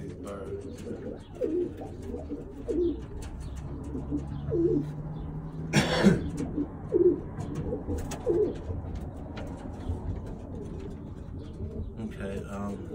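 Birmingham Roller pigeons coo softly in short repeated phrases, with a brief loud rustle midway, like wings flapping, and low background noise throughout.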